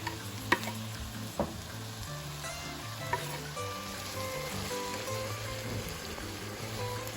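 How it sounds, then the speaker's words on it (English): Tomatoes go into onions cooking in a pan, bringing a quiet, steady sizzle with a few sharp utensil taps and stirring sounds near the start, with no speech. "Once the onions have been a little clear and they've been sitting there for a while, we can now add our tomatoes to the mixture."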